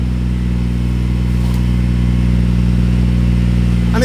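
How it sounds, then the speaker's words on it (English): A BMW B58 straight-six fitted in an E46 idles just after a cold start, a steady, even, close engine drone with no revving, holding one constant level throughout. "Such a clean idle."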